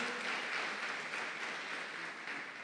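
A church congregation at an evening celebration service applauds in praise, a steady, even wash of clapping from many hands, fairly distant and unbroken for the whole stretch.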